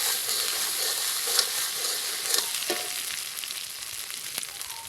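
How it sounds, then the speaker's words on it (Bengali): Spice paste for a vegetarian jackfruit dish sizzling steadily in a pan after a splash of water, a soft broadband hiss with a few faint scrapes, close and continuous with no talk. "সামান্য একটু জল দিয়ে দিব যাতে মশলাটা পুড়ে না যায় আর সুন্দর করে রান্না হয়।"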